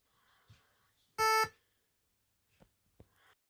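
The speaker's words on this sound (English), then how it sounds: "We've even programmed fruit to play music." Fruit wired up and programmed in Python gives a single loud electronic tone lasting about a third of a second, set among faint taps and clicks in an otherwise quiet room.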